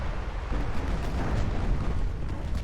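Battleship main guns fire in the naval game Ultimate Admiral Dreadnoughts, a dense, loud, rumbling wash of booms with a heavier blast about a half second in, sustained throughout.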